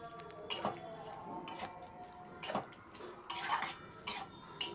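A spoon clatters and scrapes in a pan as boiled chana dal goes into the pan and is stirred, with several distinct metallic knocks and scrapes at an uneven pace over a quiet kitchen background.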